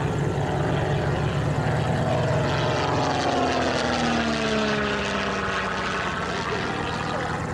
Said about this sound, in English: the De Havilland Canada Chipmunk